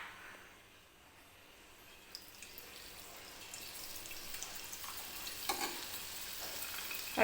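Gram flour batter drips through a slotted ladle into hot oil to fry boondi, building from quiet into a dense, rising sizzle scattered with soft drips and bubbling pops.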